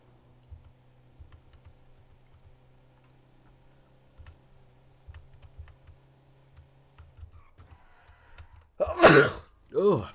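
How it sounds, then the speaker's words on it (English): A single loud sneeze bursts out near the end, after a long stretch of soft keyboard clicks and a low steady hum from a computer setup. "I always seem to sneeze in every single one of my videos."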